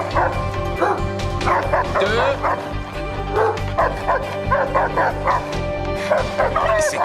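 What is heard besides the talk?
police dogs barking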